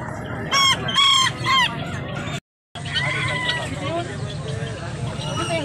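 Chickens and a rooster at a market in San Carlos, Pangasinan, with loud close clucking and squawking bursts over a background of crowd chatter and nearby talk.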